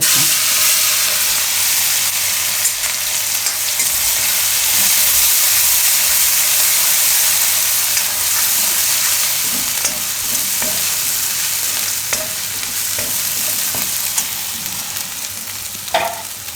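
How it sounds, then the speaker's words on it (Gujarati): Cumin, asafoetida, ginger and garlic fry in hot oil in a pan, making a loud, continuous sizzle that stays steady throughout with a few faint stirring clicks near the end. "તેલ આપણું ગરમ થઈ ગયું છે તો તેલમાં આપણે થોડુંક જીરું નાખશું થોડી હિંગ નાખીશું અને આદુ ને લસણ"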